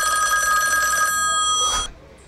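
A cartoon telephone rings with a steady, bright electronic trill for nearly two seconds and then stops, leaving quiet behind it.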